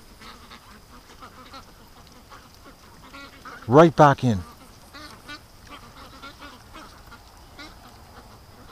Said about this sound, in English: Okay, these ducks are heading out to the lake.